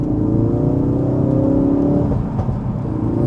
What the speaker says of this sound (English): I'm not a huge fan of the Simposer, so the fake noise coming to the cabin